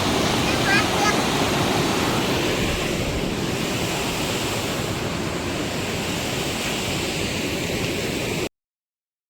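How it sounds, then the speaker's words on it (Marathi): A flooded river rushes with a loud, steady roar of churning water close by. The roar is unbroken for about eight seconds and then cuts off. "आपण नदीवर आलेलो आहोत नदी फुल प्रेशरमध्ये वाहत आहे नदीला पूर आलेला आहे"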